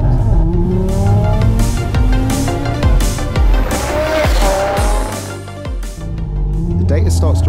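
An 850 bhp Audi RS3 accelerates hard through a 0 to 60 run, its loud, close engine note climbing in repeated rising sweeps broken by quick gear changes.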